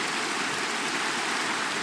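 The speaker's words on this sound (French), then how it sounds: "merci la pluie" Steady rain in the Minecraft video game makes an even, continuous hiss with no distinct drops or pauses for the whole short stretch.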